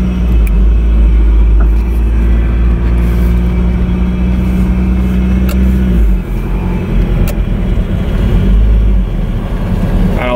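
A Toyota MR2 drives in drive gear, with a loud, steady engine and road rumble heard from inside, a low droning tone that drops briefly midway.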